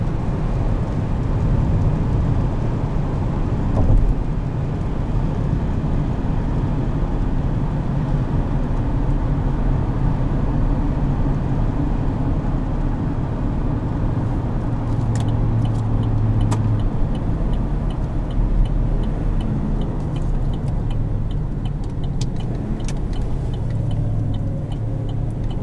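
2017 Chevrolet Silverado 2500HD pickup truck cruising at highway speed, a steady low road and engine rumble from inside the cab with faint ticking and clicks, no voices.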